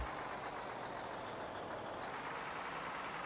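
A heavy truck engine in Farming Simulator 15 drones at a steady, broad roar while the truck drives toward a wood chip storage, with no clear break in the noise.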